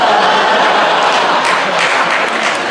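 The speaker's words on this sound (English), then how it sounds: "This guy's clapping particularly hard." A comedy club audience in North Carolina applauds in a dense, steady wash of clapping, loud and close throughout, with no single clapper standing out.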